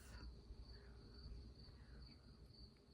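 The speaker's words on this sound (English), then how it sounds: "hopefully you can hear some of the crickets in the background." Soft, steady trilling of crickets fills a quiet night backdrop, distant and unbroken throughout.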